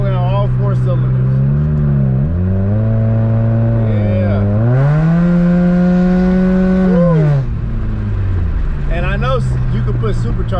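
A Chevrolet Cavalier LS Sport with an Ecotec four-cylinder engine revs up loudly and close by, climbing in pitch to a strained peak before settling back to a steady drone, with voices talking over it.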